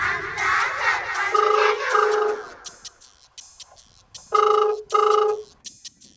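A telephone rings in two short double bursts, a clear electronic trill heard close, with other tonal sounds and noise in between.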